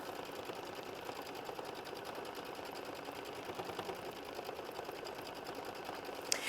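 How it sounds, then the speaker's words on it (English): A sewing machine runs steadily at a quiet level, its needle stitching quilting on fabric in a fast, even mechanical patter without pause. "now we are sewing machine stitch step 31, and that is going to do the quilting in the cream area"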